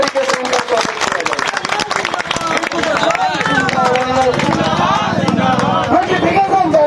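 A crowd at a CTET protest rally claps loudly to welcome Ritu Jaiswal, with dense, steady applause close by and voices shouting and speaking over it throughout.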